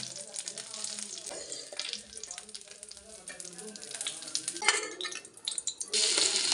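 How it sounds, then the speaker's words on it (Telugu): Curry leaf sprigs fry in hot oil in a pan in a tribal village style kitchen, a soft steady sizzle with occasional stirring scrapes and a brief louder hiss near the end, and a voice talks faintly over it. "బాగా వేగిన తర్వాత చూడండి ఫ్రెండ్స్, వేగింది కరివేపాకు రెబ్బలు."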